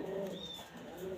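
A domestic pigeon from a loft coos once, soft and low, against steady background noise.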